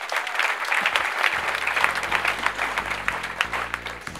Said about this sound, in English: Let's clap for our teachers.